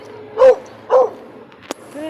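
A dog outdoors on a walking path at Quezon Memorial Circle gives two short, fairly loud barks about half a second apart, with light background ambience.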